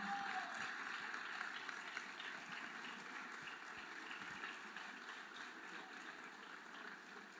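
A hall audience at a higher-education dialogue event in La Guajira breaks into steady, dense applause welcoming Minister of Education Aurora Vergara Figueroa, a sustained wash of clapping heard from within the crowd, with no talking over it.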